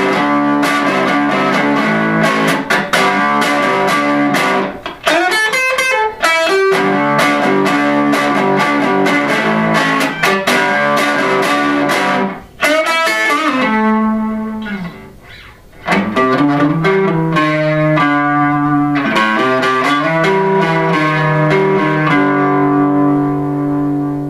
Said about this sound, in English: So this is a Strat guitar on the bridge pickup.